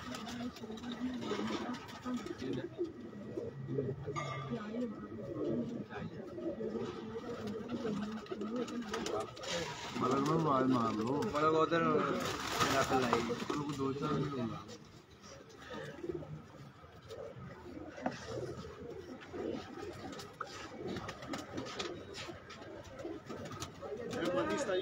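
Racing pigeons coo and rustle around a loft for a long stretch, low and steady, while someone talks over them throughout.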